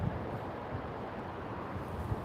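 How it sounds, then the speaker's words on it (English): Wind buffets a microphone outdoors at a street protest in Portland, a steady low rumbling roar with occasional harder gusts thumping through, running continuously and fairly quiet with no speech. "It's windy as fuck out here."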